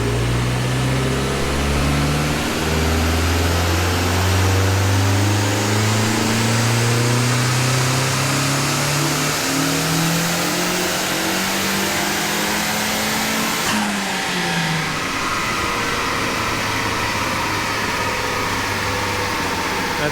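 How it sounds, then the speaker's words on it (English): A 1.8T Mk2 engine with a full 63mm exhaust, running at 1 bar boost with extra timing, revs hard and loud through a rising pull, then drops back to a steady idle-like drone. "Just doing a quick test at 1 bar boost and a little more timing"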